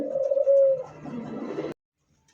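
Lakha pigeons coo in a loose series of low, throaty calls, close and clear, ending abruptly before a brief silence and a faint sound at the very end.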